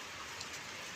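Light rain falls steadily in a soft, faint hiss, with no voices.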